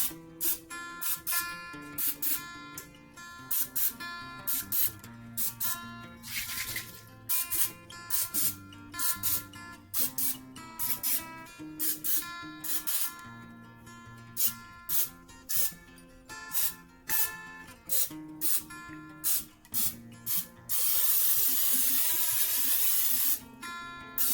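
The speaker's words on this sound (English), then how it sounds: "I'm just gonna shake it up and spray them." A cooking oil spray can hisses in repeated short bursts over a steady background of music, ending with one longer continuous spray.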